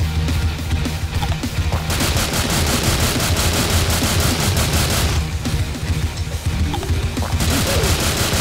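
Rapid automatic gunfire with explosive ammunition in a zombie survival video game, dense continuous bursts of shots and impacts filling the whole stretch, loud and close with no pauses.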